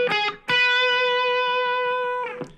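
An electric guitar plays a short solo lick: a quick picked note, then a long sustained bent note ringing clearly, ending in a brief flurry of notes.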